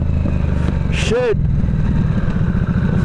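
A 2025 Harley-Davidson Nightster Special motorcycle engine runs steadily close by while a rider shifts into second gear in sports mode, with a brief rising whine partway through and a person talking over it.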